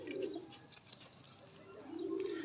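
Pigeons coo softly at a loft, two low murmuring coos at the start and end, fairly faint against a quiet background with no talk.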